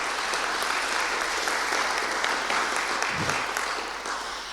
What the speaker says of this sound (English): Really, please, a round of applause,